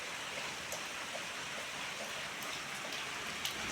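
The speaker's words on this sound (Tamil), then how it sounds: "இன்னைக்கு மழை செம்மையாக பெய்யுது" Heavy rain pouring steadily outdoors, a dense continuous hiss of drops on surfaces with no pauses, loud and unbroken throughout.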